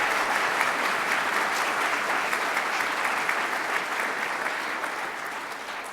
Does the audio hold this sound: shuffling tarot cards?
no